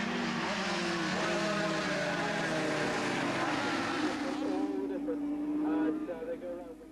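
Racing motorcycles at full speed around Knockhill circuit in the 1988 Jock Taylor 1300 Open, engines screaming loudly and continuously with rising and shifting pitch, then fading slightly as the bikes pull away near the end.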